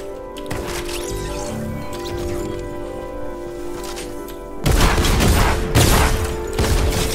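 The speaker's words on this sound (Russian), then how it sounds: "Я ненавижу этот дробовик, отвечаю." Gunfire from a Fortnite arena match, a dense stretch of shots under game music and ambience, turning into heavier, louder blasts near the end that fit shotgun fire, close and loud.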